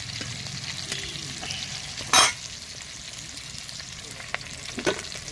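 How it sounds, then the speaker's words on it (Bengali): Fish frying in a pan over a wood fire sizzles steadily, with a short burst of crackling and a few spatters and stirring scrapes close by. "এরকম করে মাছটা ভেজে নিতে হবে।"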